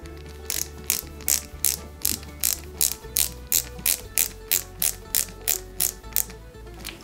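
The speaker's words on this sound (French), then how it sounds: "on va y mettre de chaque côté 2 vis, 2 belles vis AP ici, et on y va" Screws being driven into an Eaglemoss Ghostbusters Ecto-1 model kit, two small screws per side, with a ratcheting screwdriver giving about sixteen evenly spaced, crisp clicks, close and alone.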